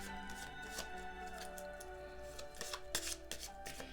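Oracle cards being shuffled repeatedly at a table, a steady riffling and tapping rhythm, close and fairly quiet, with no talking.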